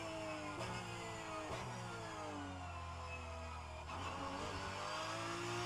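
Porsche 911 GT3 Cup 992 race car in rFactor 2, its engine revving steadily through repeated gear changes, pitch climbing and dropping with each shift, loud and continuous from the cockpit.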